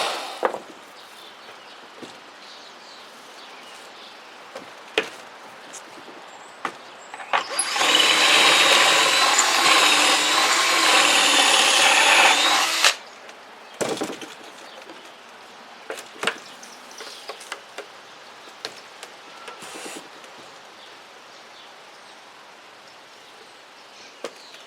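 A power drill whirs loudly for about five seconds in one steady burst, drilling a hole in wood, surrounded by quieter clicks and taps before and after.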